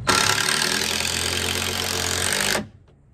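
A Bauer 20V 1/4-inch impact driver drives a screw in one continuous loud, rattling hammering burst of about two and a half seconds, then cuts off abruptly.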